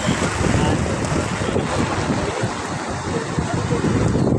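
Strong wind from Typhoon Enteng roars steadily and loudly throughout, a dense continuous gusting rush buffeting the microphone, with no clear speech over it.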